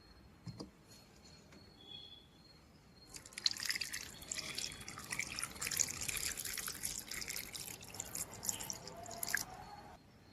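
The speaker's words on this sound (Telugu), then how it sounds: "ఇప్పుడు అవి ఒక గిన్నెలో వేసుకుని వాటర్ పోసుకుందాం" Water poured into a bowl of cut dried fish pieces: a quiet moment with a faint knock, then a steady splashing, trickling pour that runs continuously to the end.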